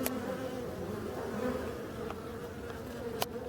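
Black honeybees buzz steadily at the entrance of a hive as foragers return loaded with pollen, a continuous close insect drone with a few brief clicks and no talk.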